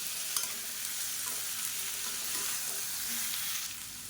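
Beans sautéing in hot oil with salt, a constant close sizzle with soft scraping as a spatula stirs them in the pan.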